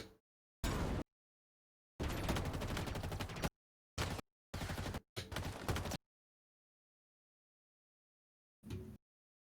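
Rapid gunfire bursts from a Halo video game trailer come in loud, separate volleys of automatic shots broken by abrupt silent gaps, with one last short burst near the end.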